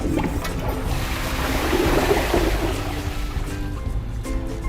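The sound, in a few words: two toilets flushing, Kohler and competitor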